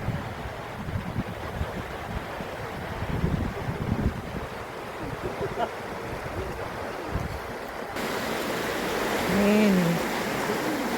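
Water churns and swirls below the Pitlochry dam in Scotland, a steady broad rush heard outdoors with wind buffeting the microphone; a voice speaks briefly over it.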